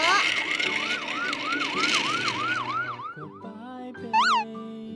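A toy police car's electronic siren wails in a steady rising-and-falling loop, then switches to a stepped tone pattern and a few short boing-like chirps, loud and close with no talk.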